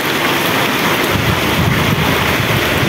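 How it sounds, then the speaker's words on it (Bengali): Heavy, steady rain pouring down nearby at a railway station, a dense continuous roar with no voices. "বৃষ্টি ছাড়ার জন্য ওয়েট করেছি কখন বৃষ্টি ছাড়ে।"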